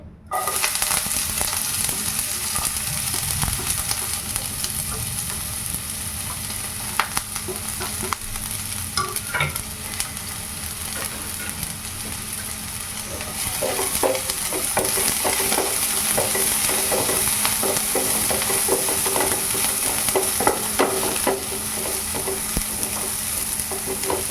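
Onions sautéing in hot oil after mustard seeds for a green peas masala curry, a steady close sizzle with stirring scrapes and occasional spoon taps throughout, no voices.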